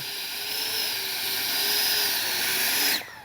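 Freewing A-10 Thunderbolt II RC jet with twin 64mm ducted fans, a high whining fan tone held steady close by, then abruptly cutting off near the end as the motors shut down.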